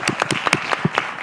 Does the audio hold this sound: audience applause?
yes